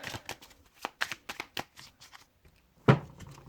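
Tarot cards are shuffled by hand in a series of quick, crisp riffling bursts and soft slaps, close and clear, ending with one sharper slap of the deck.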